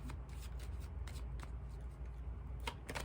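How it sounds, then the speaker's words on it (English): A deck of tarot cards shuffled by hand, a quiet, continuous riffling and slapping of cards with small crisp snaps throughout, close and with no talk. "It's a serious shuffle."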